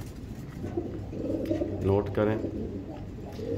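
A pigeon at a pigeon club gives a soft, low cooing from close by, partly masked by someone talking steadily over it.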